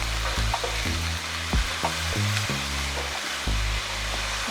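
Green onion and celery frying in a hot pan for a three-meat spaghetti sauce, giving a loud, continuous close sizzle throughout.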